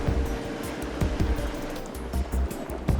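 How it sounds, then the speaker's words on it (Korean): A water bus sets off on a river in Bangkok, Thailand, with a low engine rumble, churning water and splashing against the hull, steady and close with uneven surges. "수상버스가 드디어 출발한다"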